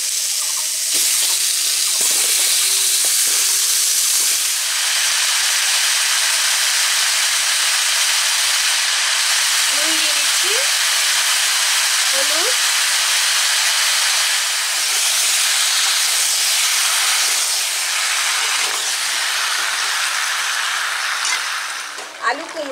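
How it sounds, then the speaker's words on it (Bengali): Potatoes and pumpkin fry in a pan with a steady, loud hiss and sizzle throughout, and a few faint clinks of utensils are heard under it. "হালকা ভাবে আলু আমি ভেজে নিয়েছি, এরপর আমি এখানে তুলে দিচ্ছি কুমড়ো।"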